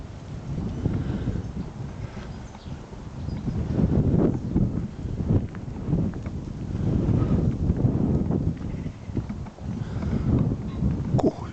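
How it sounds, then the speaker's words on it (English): Sudden gusts of wind beside the River Stour at Muscliffe buffet the microphone outdoors, a loud rumbling roar that surges and eases in uneven waves throughout. "Where did that wind spring up from? Absolutely flat calm about 5 seconds ago."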